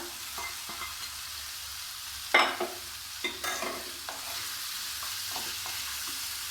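Fried potatoes tipped into a pan of frying spices and cauliflower, with a soft sizzle under repeated scraping and knocking strokes of a spoon, one louder clatter early on, then lighter irregular stirring taps; no voices.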